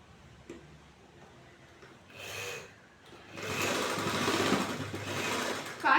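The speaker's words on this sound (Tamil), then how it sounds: "கால் இன்ச் அளவுக்கு தைக்கிறோம்." A sewing machine runs in a long, steady whirring stretch while stitching a quarter-inch seam on a blouse, after a short earlier burst and light handling noises.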